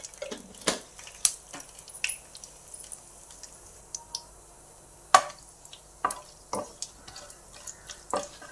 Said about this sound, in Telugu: ఇవన్నీ వేసుకొని వేగనివ్వాలి